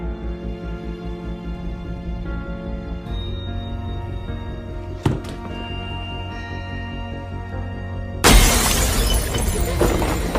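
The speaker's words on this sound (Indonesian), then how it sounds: "botol wine yang ingin ia ambil tiba-tiba pecah" A wine bottle suddenly shatters as a sound effect, a loud, abrupt crash of breaking glass. It breaks in after a stretch of low, sustained music and keeps ringing and scattering to the end.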